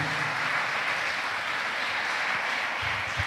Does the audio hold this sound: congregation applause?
yes